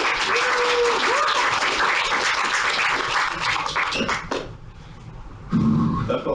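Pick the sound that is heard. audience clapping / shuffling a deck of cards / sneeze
audience clapping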